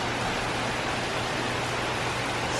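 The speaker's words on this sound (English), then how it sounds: "Raining a little bit." Light rain falls at Star Wars: Galaxy's Edge in Walt Disney World's Hollywood Studios, a steady, even hiss of drops with no distinct individual patters and no voices.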